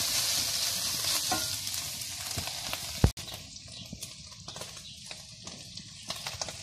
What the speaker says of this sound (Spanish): Ya la carne aquí ya casi se está dorando, ya está casi cocida.